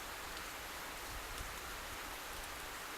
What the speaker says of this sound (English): I can hear the rain, and that's come up